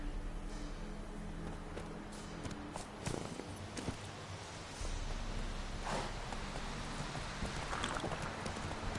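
Roach, Geralt's horse in Witcher 3, trots with faint hoof clip-clops in a loose rhythm, quiet and partly buried in ambient game sound, with no talk.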